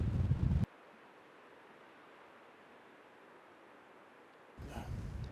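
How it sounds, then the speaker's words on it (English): Gusty outdoor wind where bald eagles soar, loud low buffeting rumbles at the start and end with a thin, quiet hush between. "There's a lot of wind today"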